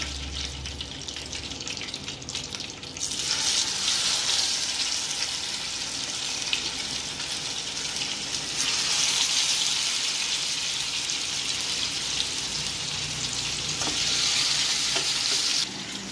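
Fish fries in a pan, giving a steady, loud sizzle that runs almost unbroken from start to finish and swells at a few points, with no talking over it.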